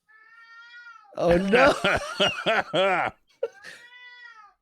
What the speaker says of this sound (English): is that an animal or a cat?